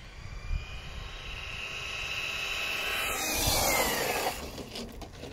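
A Reely Rat Max RC car on a 2S LiPo battery at full throttle, its electric motor whining in a rising and falling pitch as it speeds past, growing louder midway, then fading.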